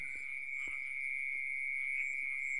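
Frogs croak by a rice field at the edge of a forest at night, a steady high insect-like trill running throughout with a few faint low croaks popping underneath.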